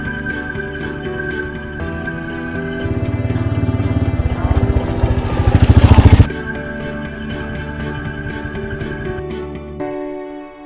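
A Royal Enfield Meteor 350 motorcycle engine running steadily while riding on winding, hilly tarmac, a harmonic drone that builds into a louder roaring surge, then settles back before cutting down.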